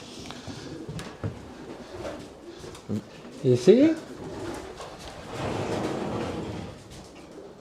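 Pigeons coo softly in an upstairs loft, a few brief low burbling calls rising near the middle amid mixed background noise, with people talking around them.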